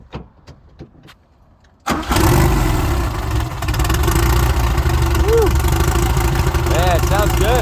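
Starter cranking catches and the turbocharged 1970 VW Beetle engine bursts to life, then settles into a loud, steady idle with a throaty drone and occasional rising whistles, close up, after a few faint clicks and murmurs.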